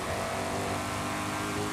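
A car with a stock GT500 engine driving in Forza Horizon 5, heard as a loud, steady engine roar held at constant revs throughout the short stretch, with no talking.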